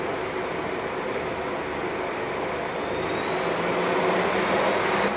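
A Hainbuch lathe chuck spins at its 4,000 RPM maximum, giving a loud, steady whirring roar with a faint high whine, continuous throughout and slightly swelling toward the end, with nobody speaking.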